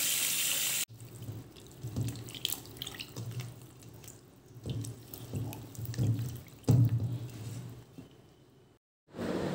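Running tap water splashes and trickles steadily as figs are rinsed by hand, with shifting splashes and brief pauses in the flow.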